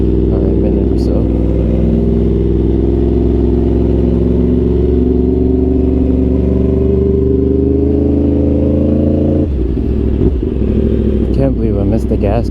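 Yamaha R1 sportbike engine droning steadily at moderate revs during a late-night ride, with harmonic whine shifting slightly and a brief drop near the end, loud and close with a rider talking over it.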